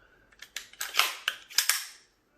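Sharp metallic clicks and clacks of an AR rifle's charging handle and bolt being worked until the bolt locks back, a quick close series of separate snaps with no talk.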